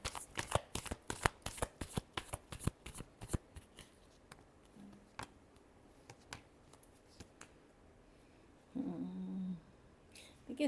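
Tarot cards shuffled up close in a fast run of crisp riffling flicks that slows and thins out, followed by a brief soft rustle near the end, with no voices.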